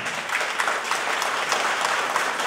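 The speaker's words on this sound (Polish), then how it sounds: "a dzieci brawa biją, jak ich pani wychodzą" Schoolchildren clap at a grandparents' day event in a primary school hall, a dense, steady patter of applause from many small hands filling the room throughout.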